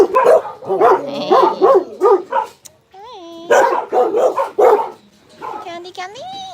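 Close, loud barking and yipping from dogs at an animal shelter, in irregular bursts broken by a few high whimpers and whines, with short pauses between volleys.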